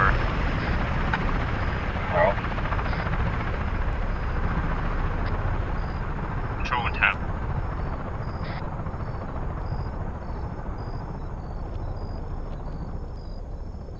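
A helicopter flies over the battlefield in the military video game Arma 3, its steady rotor drone filling the whole stretch loudly, with brief game effects and faint radio chatter on top.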